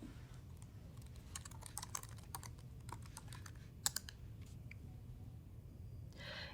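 Typing on a computer keyboard while editing a Linux filesystem table, a quiet run of irregular key clicks with a few sharper taps and pauses, close and alone over soft room hiss.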